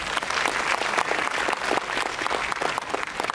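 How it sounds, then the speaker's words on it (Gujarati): A large crowd at a festive Shakti dance celebration breaks into vigorous applause, a dense wash of clapping that holds steady throughout. "જોરદાર તાળી"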